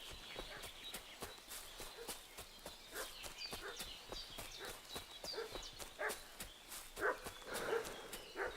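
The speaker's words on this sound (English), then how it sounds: "What's that dog making such a fuss about?" A dog barks repeatedly in the medieval open-world game Kingdom Come: Deliverance 2, mixed with hoof clip-clop, footsteps and steady ambient noise, the barks moderately near and rising toward the end.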